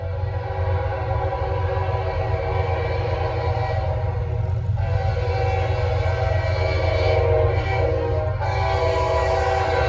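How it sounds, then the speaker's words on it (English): Norfolk Southern train 154 rolls past on the Charlotte District with a heavy, steady rumble and a sustained horn blast layered over it, loud and constant throughout. "154 is the next train"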